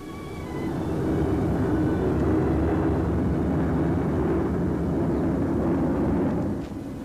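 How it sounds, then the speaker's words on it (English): British Sunderland flying boats over Burmese jungle, their engines a loud, steady, broad drone that fades in and holds throughout with no voices. "Over wild Burmese jungles, the British Sunderland flying boats ferry supplies."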